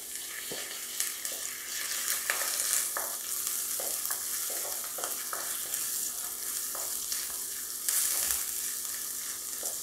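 Curry leaves and green chillies crackle and sizzle in hot oil in a pan, a continuous bright hiss dotted with small pops and stirring scrapes, close and steady with no talk.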